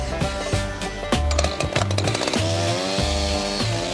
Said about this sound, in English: First with a chainsaw, then with a tool called a draw knife.